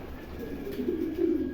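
Pigeons coo softly and continuously at a pigeon breeding farm in Bera, Pabna, a low murmuring burble that swells slightly toward the end, with no speech over it.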